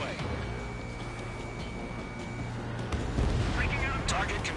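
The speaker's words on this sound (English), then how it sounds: "Missile away." A missile fired and exploding in the air-combat video game Ace Combat, heard as rumbling booms and bursts over a continuous engine drone, with radio voices talking at times.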